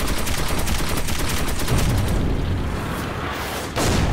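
Rapid gunfire aimed at a Panzer in the Metro 2033 video game, during a railcar fight: loud, dense bursts of repeated shots that thin out toward the end, ending with a final sharp blast.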